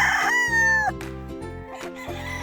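Game fowl stags, October-born Escolin line birds at 482 game farm, crow close by, one loud drawn-out cock-a-doodle-doo overlapping with clucks and further crowing from other birds.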